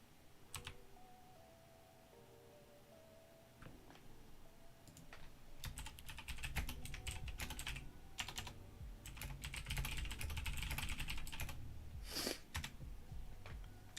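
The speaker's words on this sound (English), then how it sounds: "That's what I was typing." Typing on a computer keyboard during a live stock market stream: a quiet, rapid run of close key clicks in uneven bursts, starting sparse and then growing denser, with no talk.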